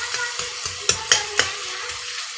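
Food frying in a pan with a steady sizzle, punctuated by several sharp scrapes and knocks of a spoon stirring against the metal, close by and with no talk.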